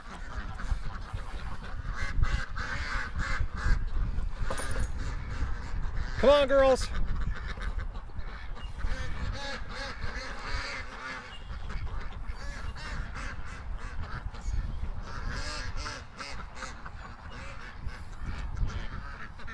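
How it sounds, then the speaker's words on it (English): A flock of ducks approaches and quacks in scattered, overlapping bursts near and far, with someone talking and calling to them throughout. "Oh, we got a whole bunch of ducks coming."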